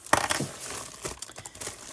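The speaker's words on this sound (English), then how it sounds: "let's get the bag open. See if I can do it without ripping the plastic." A plastic bag holding a diamond art kit canvas is worked open by hand, giving close, steady crinkling and crackling with a sharp rustle near the start and no talk.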